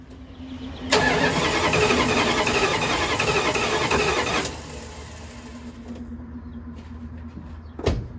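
A 1974 Dodge Power Wagon engine, unused for 15 years, cranks over loudly and steadily for a few seconds without catching, then cuts off, leaving a low idle hum and a brief clunk.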